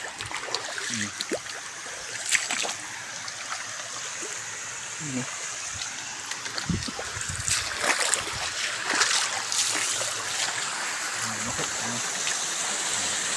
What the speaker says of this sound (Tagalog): Ganda ng ilog.